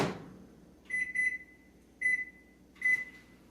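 A microwave oven that has been warming water for pita bread dough gives four clear electronic beeps: a quick pair, then two single beeps spaced about a second apart, with near silence in between.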